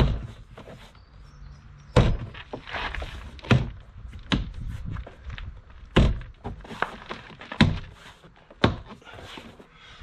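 Plastic clips on a Mini One/Cooper R50/R53 door card are banged into their holes, giving sharp irregular thumps and knocks with quieter handling rustle between them, close and loud.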